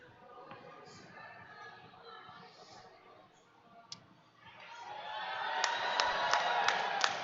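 Crowd cheering at an indoor climbing competition, the lead and top rope provincial semifinals, swelling in the second half from a low murmur into loud sustained applause and cheers with sharp claps.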